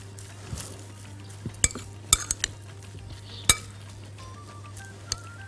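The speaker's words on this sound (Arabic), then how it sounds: "هحط بقى معلقه من الصويا صوص، معلقه صغيره قوي، وهقلب." A spoon stirs soy sauce into a sushi rice mixture for salmon sushi balls, giving soft scraping and a few sharp clinks against the bowl over a low steady hum.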